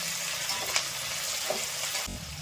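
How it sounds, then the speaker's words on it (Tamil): Onions sautéing with a handful of coriander and mint for chicken biryani in a pan, giving a steady close sizzle and frying hiss with a few light stirring scrapes and no talk. "ஒரு கைப்பிடி கொத்தமல்லி புதினா வெங்காயத்தை போட்டு நல்லா வதக்கிடுங்க."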